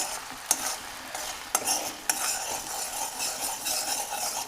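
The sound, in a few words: stirring a heating candle-wax mixture with a spoon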